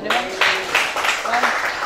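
Audience applause in a Jakarta high school assembly, a crowd of students clapping in uneven waves with voices murmuring underneath, fairly loud and close.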